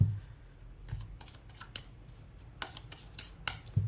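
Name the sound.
tarot cards being shuffled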